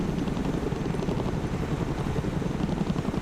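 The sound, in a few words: helicopter flying in video game Broken Arrow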